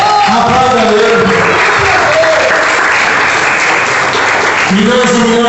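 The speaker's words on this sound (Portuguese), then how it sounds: "dê uma linda salva de palmas para Jesus" A church congregation claps loudly and continuously, a dense wall of applause, while a pastor's amplified voice keeps preaching over it.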